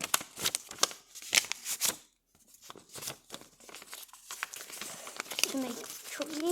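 Paper crinkling and creasing close up as a sheet is folded into an eagle paper airplane, brisk rustles and soft crackles in bursts with a brief quiet gap, while a person talks over it.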